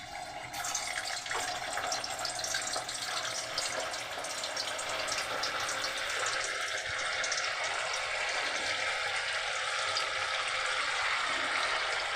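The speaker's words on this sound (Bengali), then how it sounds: "এখন আমি এতে এই তৈরি করে রাখা ছানার বলগুলোকে ভেজে নেব ছাঁকা তেলে।" Chhana (cottage cheese) balls deep frying together in a kadai of hot oil for kofta, giving a steady, dense bubbling hiss that holds evenly throughout with no talk.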